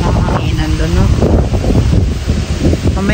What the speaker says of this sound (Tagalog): Masyadong mahanginan doon